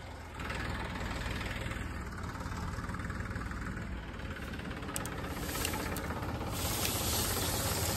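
A tractor engine idles on a farm during sowing work, a steady low, knocking diesel rumble that stays close and even throughout with no voices.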